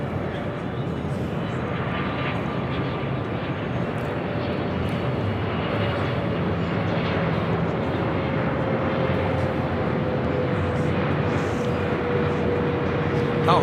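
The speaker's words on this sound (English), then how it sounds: "This is EVA Air Flight 16 coming in from Taipei on the 777-300ER." An EVA Air Boeing 777-300ER arriving at LAX from Taipei gives a steady, sustained jet roar with a faint tonal whine that slowly drifts lower, holding at an even level with a slight rise near the end.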